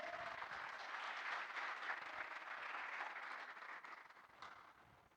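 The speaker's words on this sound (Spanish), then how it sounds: "Den un aplauso al Señor." Sustained applause from a church congregation, a dense wash of many hands clapping that stays steady and loud before thinning slightly toward the end.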